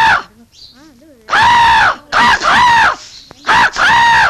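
Crows caw loudly while being fed rice, giving several harsh, close calls in quick succession with brief pauses between them.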